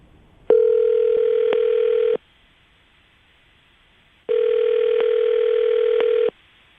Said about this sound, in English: I'm going to dial the phone